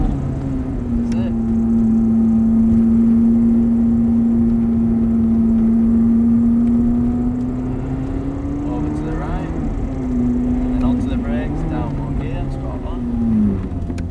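A car on a track during a driving day holds a loud, steady engine drone. The pitch shifts around gear changes near ten and thirteen seconds, under a voice talking throughout.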